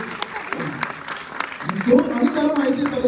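An audience claps in scattered, light applause at a dance performance, with a few distinct claps before a voice starts talking over it and the clapping continues faintly underneath.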